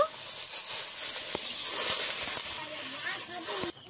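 Water poured into hot, well-fried masala for a pomfret fish curry sends up a loud, steady steam hiss that drops off suddenly and then fades, with faint voices in the background.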